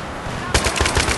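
Rapid automatic gunfire from the video game Battlefield 3 erupts abruptly partway through, a loud, dense burst of shots that runs to the end.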